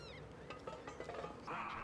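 Geese honk in the Knights and Bikes video game, a couple of short nasal calls over steady background game music and ambience, moderately loud and close.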